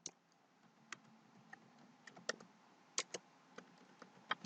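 A password typed on a computer keyboard: faint, sparse key clicks in an irregular rhythm over a quiet room hum, with a few sharper taps standing out.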